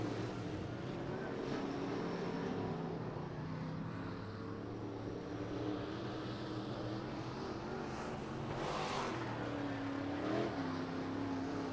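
IMCA Modified race cars run laps on a dirt track, their engines a continuous rumbling roar heard from a distance with rising and falling pitch as the cars pass, steady throughout.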